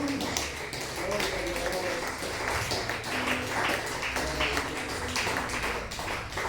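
Church congregation claps during a lively sermon, a loud, sustained burst of applause with a voice speaking over it throughout.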